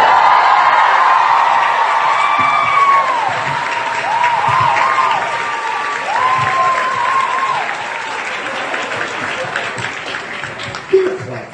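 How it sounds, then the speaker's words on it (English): Panel audience at the JIBCON 2017 convention clapping and cheering, a crowd of applause with whoops and shouted voices over it, strong at first and thinning toward the end. "Don't clap for that."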